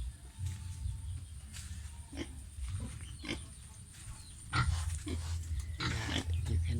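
Pigs eat at feeding time in the Cambodian countryside, giving off close, steady grunts and snorting chomps with louder bursts toward the end, over a constant background hum.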